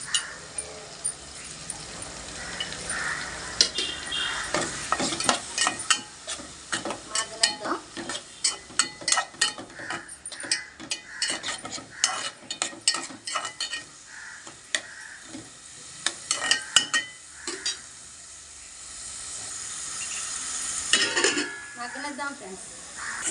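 Onions fry in a pan for an eggplant and tomato curry while a utensil stirs them: a soft, steady sizzle with frequent scraping clicks, fairly quiet and close.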